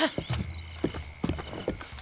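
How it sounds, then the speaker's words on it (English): Horse hooves clip-clop at a steady walking rhythm in a Zelda video game, close and clear, with a brief whinny-like tone and no talking over it. "That's why I wanted to bring my horse up here."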